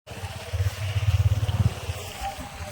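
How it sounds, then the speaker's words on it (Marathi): A motorbike ride through hilly countryside near Nashik, with a close, low, throbbing engine rumble pulsing steadily beneath a wash of wind noise. "आम्ही बाईकची सवारी करून जातो"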